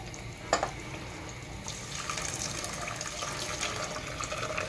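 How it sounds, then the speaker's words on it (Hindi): Milk poured into pan of roasted vermicelli for sweet kimami seviyan, a steady liquid pour with a soft splash near the start and a continuous, moderately quiet flow throughout. "अब हम इसमें दूध शामिल करेंगे।"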